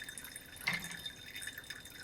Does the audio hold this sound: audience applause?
no